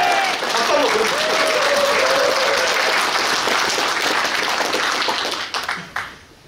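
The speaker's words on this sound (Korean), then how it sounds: "박수 한번 보내주십시오" Sustained audience applause at a political rally, a dense, steady wash of clapping from a large crowd that runs loud for several seconds before thinning out near the end, with a voice heard faintly at the start.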